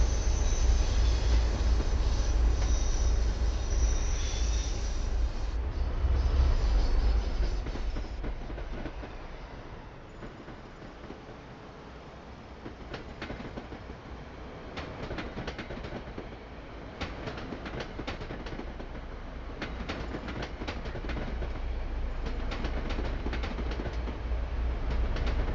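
A train runs continuously in the video game Train Sim World 5 with a steady rumbling roll, rhythmic clicking of wheels over rail joints and occasional faint squeals, the level dipping slightly midway.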